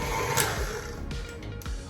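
An electric mixer beats butter in a bowl at medium speed, a steady close whirring hum with a few brief clatters of the beaters against the bowl.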